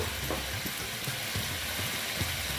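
Spices with Kashmiri red chili powder sauté in a pan, giving a steady close sizzle with soft stirring scrapes occurring at intervals.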